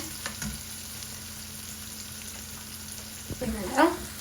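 Onions sautéing in a pan for crab curry, a steady low sizzle throughout with a brief stir and scrape near the end, close by.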